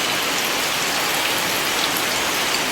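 Steady, dense rain falling on a surface, an even hiss that fills the whole stretch with no voices or thunder.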